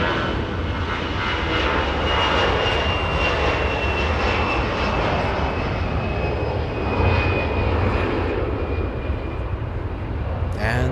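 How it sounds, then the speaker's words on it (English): Aircraft engine noise from a 29-year-old Delta Airbus A320 jet on the move at Los Angeles International Airport, a steady, fairly loud broadband roar lasting throughout with faint background sounds. "Delta 2159 flying to Austin, Texas. That's an Airbus A320."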